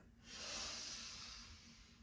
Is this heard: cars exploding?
no